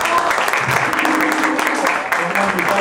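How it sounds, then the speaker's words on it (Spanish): Loud crowd applause for La Conmoción Orquesta at a salsa recital, a dense steady wash of many hands clapping that holds for the whole stretch, with voices mixed in. "vamos a darle un fuerte aplauso a la orquesta La Conmoción Orquesta."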